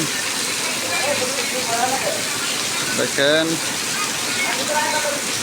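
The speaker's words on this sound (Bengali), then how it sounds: "সুন্দর বৃষ্টি, মেঘলা মেঘলা আকাশ, মেঘলা মেঘলা বৃষ্টি।" Steady rain hisses across the whole clip, with a voice speaking briefly over it.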